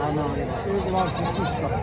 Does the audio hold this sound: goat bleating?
yes